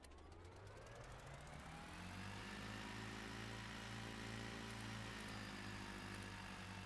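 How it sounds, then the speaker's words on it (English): Train engine fitted with a new exhaust in the Stormworks video game, a deep droning rumble with steady low harmonics that rise slightly in pitch as it revs, loud and continuous with no talk. "I want to hear the engine. You can hear it there, kind of. It's a very low rumble."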